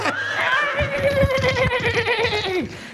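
A loud, close horse neigh sound effect: a single shaky, wavering whinny that rises and trembles, then drops in pitch near the end, with no voices.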